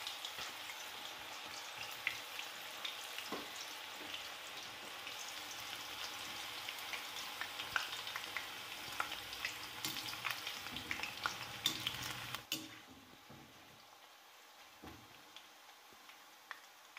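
Raw banana slices frying in oil heated to a high boil, a dense steady sizzle with scattered pops and crackles for about twelve seconds, then dropping to a quieter fizz.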